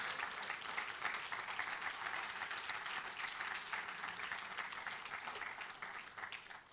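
A church congregation applauds during a Spanish-language Christian sermon, a dense, steady wash of many hands clapping that holds for several seconds and eases slightly at the end.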